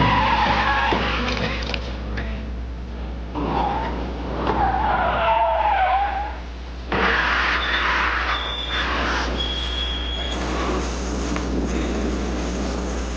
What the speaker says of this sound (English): Car racing, fast automobiles. It's the world of speed